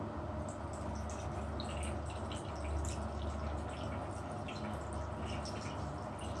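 Running water splashes steadily while a small dog named Ppoppi is washed, a soft continuous flow with faint dripping and no talk.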